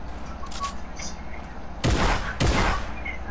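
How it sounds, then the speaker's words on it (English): Two loud, sharp shotgun blasts go off in Fortnite about half a second apart over steady game background noise, with no talk between them. "Oh my god, this dumb shotgun."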